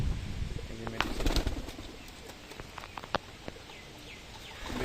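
Pigeons released to feed in rainy weather make soft coos and fluttering sounds close by, with rain pattering steadily underneath and scattered sharp knocks.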